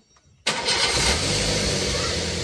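A car engine cranks and catches after a brief quiet moment, then settles into a loud, steady idle close to the microphone, with no talking.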